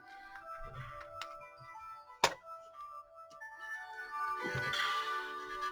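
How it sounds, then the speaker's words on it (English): A mobile phone rings indoors while auction-haul items such as jewelry and a cosmetics jar are handled, a steady melodic ringtone pattern rising to a louder stretch near the end, with a sharp knock partway through. "of course, my phone's ringing"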